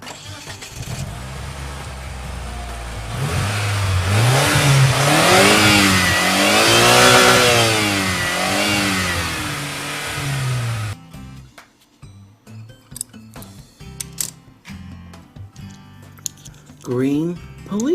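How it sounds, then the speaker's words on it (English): A green sports car engine revs loudly and steadily, rising and falling in sweeping surges before cutting off into sparse, irregular mechanical knocks and clatter. "Green sports car."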